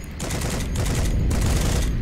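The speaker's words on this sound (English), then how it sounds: "You're behind the machine gun." Heavy automatic gunfire in the online war game Heroes & Generals, a loud, continuous fusillade of rapid shots filling the whole moment with dense, overlapping bursts.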